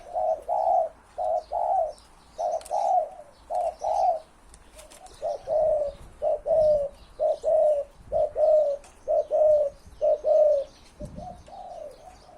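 Steady, repeated cooing from a spotted dove, a hybrid with a deep, mid-to-large voice, a series of soft, mellow phrases with short gaps, over a quiet outdoor background with occasional distant chirps.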